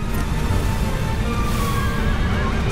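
A horse neighs in Shadow of the Colossus, a drawn-out whinny over a loud, steady rumbling background with no talking.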